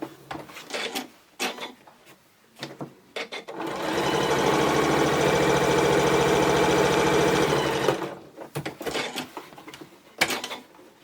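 A sewing machine stitches a seam on a fabric bottle bag, running in one fast, steady mechanical whir for about four seconds, bracketed by fabric handling and small clicks close by.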